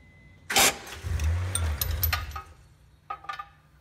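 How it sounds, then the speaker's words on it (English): A first-generation Acura Legend's 2.7L V6 starts unintentionally during timing belt and water pump work. A sharp cranking burst catches into a short, close rumble, dies away, then a few quick metallic clicks follow. "Oops, accidentally started the engine."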